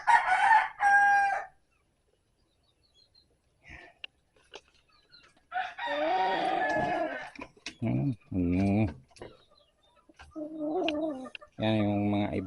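Several chickens cluck and a rooster crows nearby, with loud bursts separated by quieter pauses and a few faint calls in between.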